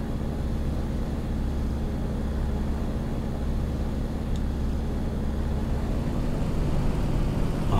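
A Spitfire in flight in IL-2 Cliffs of Dover drones with a steady, low engine roar and wind rush, continuous and moderately loud with no break.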